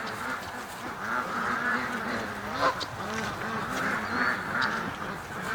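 Ducks quack repeatedly in short nasal bursts, with geese-like honks mixed in, a busy chorus of nearby waterfowl over a steady outdoor hiss and occasional faint background noise.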